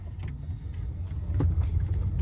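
Electric car pulling away slowly on a gravel road, a low muted rumble of tires with faint crunching and creaks that grows slightly louder, no engine noise.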